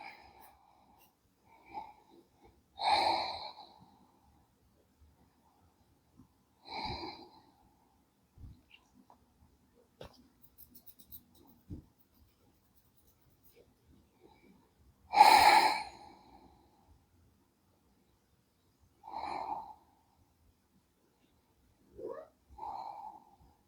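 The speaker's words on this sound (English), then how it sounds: "Find your exhale." Slow, audible breaths during a slow-flow yoga session, about five soft exhales spaced several seconds apart with quiet between them, close to the mic.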